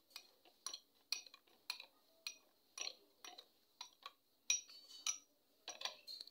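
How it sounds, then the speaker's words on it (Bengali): Spoon stirring sugar into mango juice in a glass, giving a quick run of light clinks and taps, about a dozen sharp ticks at an uneven rhythm, close and fairly quiet. "একটু ভালো করে নেড়ে নি। ভালো করে চিনিটা মিশিয়ে নিই এর মধ্যে।"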